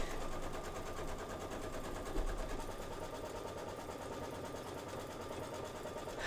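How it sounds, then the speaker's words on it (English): A sewing machine runs steadily through a tack-down stitch on a Kimberbell sew-along project, a continuous close mechanical whir with fine rapid needle rhythm throughout. "I am going to do my tack down."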